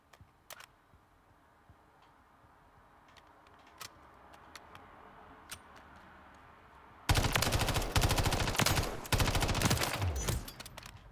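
Call of Duty MW3 firing range: after several quiet seconds with faint ticks, a loud stretch of rapid automatic gunfire rattles on for about four seconds, with one brief pause near the end.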